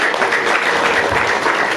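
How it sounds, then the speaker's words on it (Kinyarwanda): A dense, continuous wash of applause fills the air at a Rwandan wedding ceremony, many hands clapping at once with no single claps standing out. "ni ukunyongerera amashyi."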